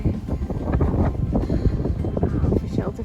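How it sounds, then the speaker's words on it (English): Strong wind buffets the microphone at an exposed campsite on the Larapinta Trail in the Northern Territory outback, a steady roaring gust with irregular rumbling thumps throughout. "It's pretty windy, but there are campsites here that have these walls built around them."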